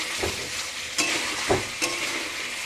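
Chicken kosha stir-fried in a pan with a pinch of sugar gives a loud, continuous sizzle broken by four sharp spatula scrapes and stirs at a slow, regular pace.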